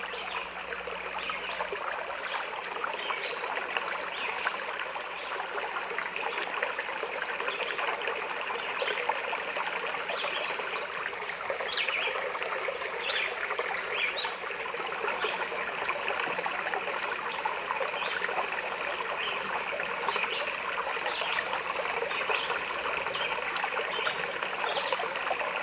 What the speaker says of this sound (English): underneath the first footbridge, there's a really nice creek where you can take time to relax and let the sound of the water do its soothing wonders